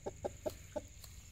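A brooding hen sitting on a clutch of ten eggs in a cage gives four short, soft clucks at an even pace, close by and alone.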